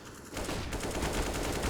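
Rapid pistol gunfire rattles in a Counter-Strike match, a dense burst of overlapping shots and impacts that starts loud and stays continuous, with no voices.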